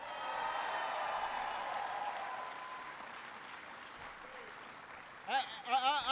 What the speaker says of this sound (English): Everybody give Jordan a big round of applause.